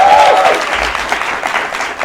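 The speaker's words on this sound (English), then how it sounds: "Let's clap for yourselves for being here." Live talk-show studio audience applauding, a steady wash of many hands clapping close and fairly loud throughout.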